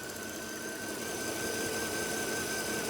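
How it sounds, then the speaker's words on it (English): A 2010 Mercedes S 550 4MATIC engine idles steadily and smoothly, a quiet, even hum with faint tonal whine, heard up close with no talking. "You can see how smooth this is, how smooth it's idling, and how quiet it's idling."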